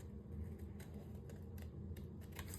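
Scissors cut paper for a mini album in several faint, brief snips, close but quiet over a low background rumble, with no talking.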